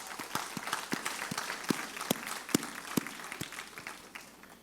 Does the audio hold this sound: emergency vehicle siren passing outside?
no